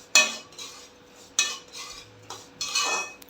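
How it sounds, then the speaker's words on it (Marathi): A spoon scrapes and stirs semolina roasting in ghee in a metal pan, three separate bursts of close clinking and scraping with short pauses between them. "चार चमचे मी साजूक तूप सोडते आहे आणि रवा भाजून घेते आहे"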